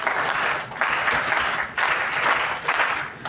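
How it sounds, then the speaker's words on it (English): An audience at a personality development training session claps together in loud bursts that swell and fade in a repeating rhythm, with no talking. "we'll go for a rhythmic clapping"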